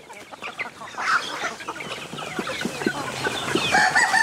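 Native chickens cluck steadily nearby while pecking at feed mixed with boiled malunggay leaves, rice bran and cooked rice, with brief higher calls over the flock's continuous murmur.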